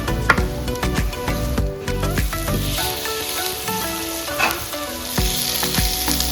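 Chicken curry masala with coriander, mint and curry leaves frying in a pan, a loud close sizzle with spoon stirring and scraping, for Telangana-style chicken curry.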